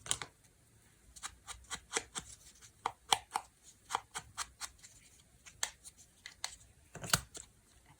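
Recycled packaging cut with short, crisp snips in an irregular series of close, sharp clicks, quiet overall with no talking.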